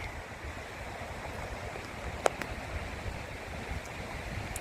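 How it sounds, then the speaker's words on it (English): An old water wheel turns in the river beside the restored mill at Zehnder Park, giving a faint, steady rush and splash of falling water with a few sharp clicks. "So the old water wheel's spinning again."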